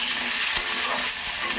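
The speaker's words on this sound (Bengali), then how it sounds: "সুন্দর করে ভাজাভাজি করছি" Chopped pumpkin, potato and carrot sizzle steadily in a hot pan while being stirred, a close, continuous frying hiss with occasional scraping.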